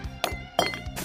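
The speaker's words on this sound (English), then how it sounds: "aside from that glass jar jitter" A glass jar in a video game jitters in place, giving two or three short, bright clinks of glass about a third of a second apart, close and clear.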